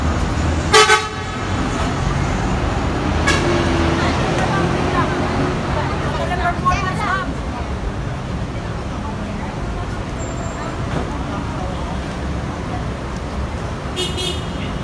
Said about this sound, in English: Well, you talk about traffic.